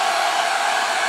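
Hair dryer blowing on a wet puppy after a bath, a steady loud broadband whoosh held close throughout with no voices.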